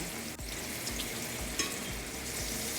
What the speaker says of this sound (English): Let me put my butter in here. My pan is on medium.